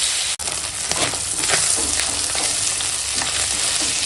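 Tel potka pufferfish frying in hot oil in a home kitchen, a constant loud sizzle and crackle with a brief thump early on, close by and with no talking.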